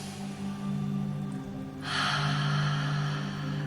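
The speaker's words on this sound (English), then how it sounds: "Let's take a nice big breath in." A deep breath drawn in through the nose during a morning full-body yawn stretch, a steady airy inhale that swells louder partway through and holds, close and alone with no talk.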